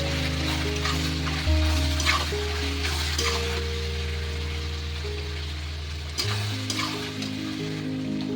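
Chicken skin frying in a pan with salt and turmeric while being stirred, a steady close crackling sizzle with scraping stir strokes, under a constant low tonal hum, no talk.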